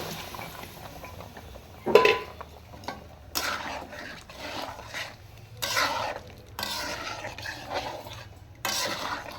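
Boiled potatoes being stirred and fried into spiced oil in a pan for aloo dum, with bursts of scraping and rubbing spoon strokes against the pan, close and moderately loud, separated by quieter gaps and no talk.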